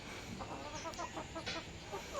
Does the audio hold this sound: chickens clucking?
yes